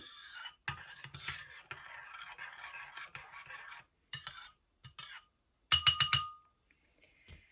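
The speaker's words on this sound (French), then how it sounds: "Et je vais mélanger le tout pour que la levure s'active dans le lait." Yeast and sugar stirred into milk with a spoon in a glass bowl, soft scraping strokes and bright clinks against the glass, quiet and close, with gaps between bursts.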